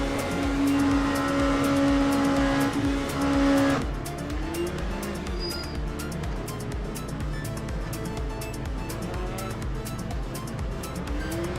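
Race cars in the Le Mans Ultimate sim hold a steady, droning engine note during a formation lap, a loud close whine that shifts down after a few seconds, with faint tyre noise and brief talk underneath.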